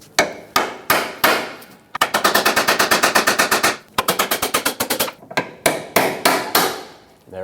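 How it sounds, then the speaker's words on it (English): A hammer strikes a pry bar against the driveshaft of a 2008-2012 Jeep Liberty, sharp metallic blows landing close and loud, first in single hits, then fast rapid bursts of repeated tapping. "Now I have much better access to tap this with a pry bar and a hammer."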